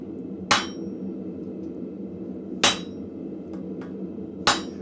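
A blacksmith's unhardened hammer strikes a top fuller tool on a shelf bracket with hooks in a forge, three sharp ringing blows spaced about two seconds apart over a low shop hum.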